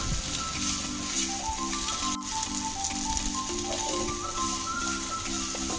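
Sliced ivy gourd and bilimbi for a Kerala-style curry fry with a loud, steady sizzle up close while being stirred, and a single sharp clack partway through.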